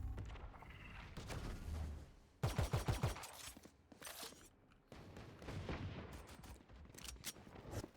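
Rapid bursts of gunfire crackle through a Valorant esports match, with a loud volley of rattling shots in the middle and scattered firing before and after over steady game ambience.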